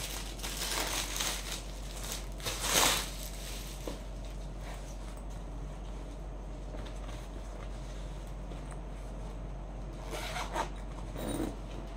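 The zipper on a fabric saree storage bag is pulled along its track in a couple of short rasping runs, close but fairly soft against a steady low background hum, with no talking.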